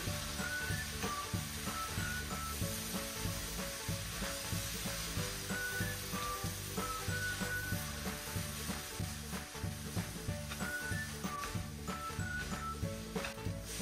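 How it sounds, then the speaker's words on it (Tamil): Steady loud sizzling of prawns and rice noodles frying in a pan, with rhythmic scraping and stirring strokes of a utensil repeating throughout and no talk. "நூடுல்ஸை வந்து இப்படி வந்து கிண்டி கொள்வோம்."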